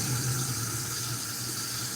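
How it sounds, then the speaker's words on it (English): Tap water streams into a kitchen sink to rinse rice, a steady, even rush of running water with a low hum underneath, close by. "Gotta rinse my rice for a while."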